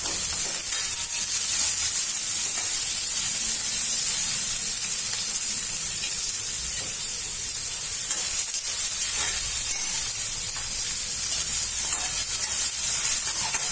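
Onions frying in oil in a Maharashtrian kitchen while preparing kande pohe, a steady, close hiss and sizzle that runs unbroken and fairly loud from start to finish, with no talking.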